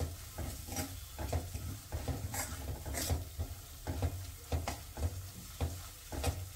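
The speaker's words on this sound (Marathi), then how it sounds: "मसाल्यांना छानसं तेल सुटेपर्यंत आपण इथे त्यांना परतून घेणार आहोत." Spices sautéing in oil in a pan for dal tadka served with dal bati, a steady low sizzle under rhythmic stirring strokes that scrape every half second or so, close up with no voices.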